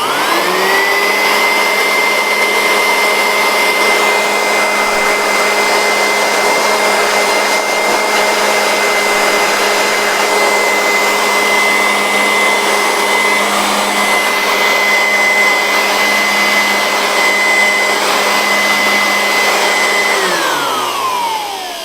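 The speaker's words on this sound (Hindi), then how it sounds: "अब देखिए मैं इस बटन को थोड़ा कंटिन्यूसली प्रेस करके रखूँगा तो इस मशीन को मैं कंटिन्यूसली भी चला पाऊँगा।" Electric air blower dust cleaner runs continuously, a loud, close, steady high whine and rushing airflow that holds evenly for about twenty seconds before spinning down at the end.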